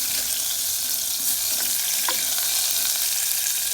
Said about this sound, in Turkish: Yağımızı eritelim.